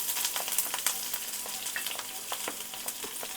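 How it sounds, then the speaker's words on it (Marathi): Onion and green chilli frying in a pan with mustard seeds and cumin for paneer fried rice, a steady close sizzle with crackling pops and light stirring scrapes throughout, no voices. "आणि हिरवी मिरची चांगले पहिला भाजून घेऊया."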